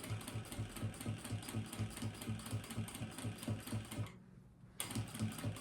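A sewing machine stitches a straight seam on a fabric makeup bag with a fast, even mechanical chatter, pauses briefly, then starts again close by.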